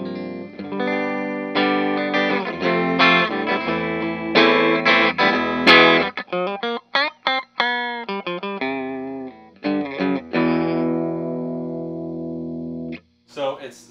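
An amplified electric guitar through a Vox AC30/4 amp plays chords and single notes with a wavering, pulsing tremolo, some notes clipped short, others ringing out.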